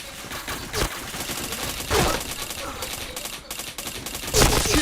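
Bursts of gunfire from a shooter video game, with several sharp volleys landing around the one-, two- and four-and-a-half-second marks over a busy, continuous game soundscape.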